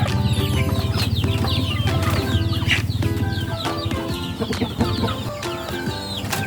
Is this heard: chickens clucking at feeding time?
yes